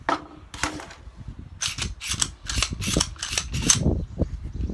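Mechanical clicks and sharp metallic clacks from handling and checking a new Stoeger STR9 pistol, with a slide racked and parts snapping in a quick irregular burst, close and clear, no talking.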